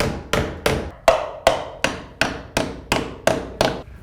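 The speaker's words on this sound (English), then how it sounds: "With my holes drilled, I can now place in the plugs and tap them home." Wall plugs are tapped into drilled holes with a hammer while installing thermal boards, giving eleven sharp, evenly spaced close knocks, each ringing briefly before the next.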